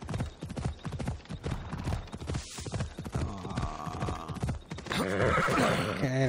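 Horse hooves clip-clop steadily in the video game Assassin's Creed Odyssey, with a loud neigh breaking out near the end over a continuous game soundscape.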